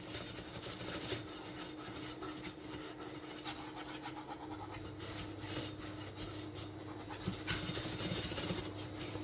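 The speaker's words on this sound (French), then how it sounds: "je viens mélanger avec mon fouet" A whisk stirs melted butter and flour together in a pan, giving a soft, steady scraping and rubbing at low level that continues without a break.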